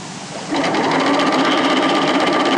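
A sewing machine stitches a bodice seam on a combined facing, its motor starting after a brief quiet moment and then running at a steady, fast, even hum with rapid needle clatter, close and loud, no talking.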